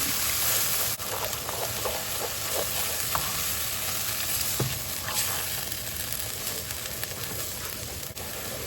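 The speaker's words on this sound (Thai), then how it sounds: "กะทิลงไปผัดเลยนะคะ ค่อยๆใส่กะทิค่ะเพื่อนๆ" Coconut milk being stir-fried with red curry paste in a pan, giving a dense, steady sizzle throughout with faint scattered stirring scrapes underneath.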